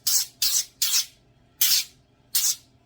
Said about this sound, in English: we're just going to spray this with just whatever kind of spray you have. I just have some avocado spray.